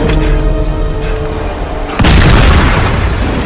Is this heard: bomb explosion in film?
yes